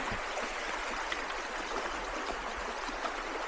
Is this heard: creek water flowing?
yes